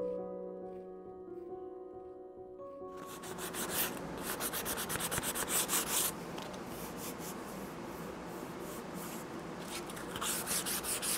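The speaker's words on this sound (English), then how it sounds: "you don't want to sand it too far because you lose all that beautiful patina" Reclaimed wood is sanded by hand in steady back-and-forth rubbing strokes, close and fairly quiet, after a few seconds of faint background tones.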